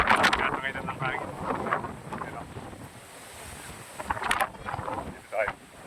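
Strong wind buffets the microphone in a steady, rushing roar during a year-end ride in San Nicolas, Pangasinan, with a few faint voices mixed in.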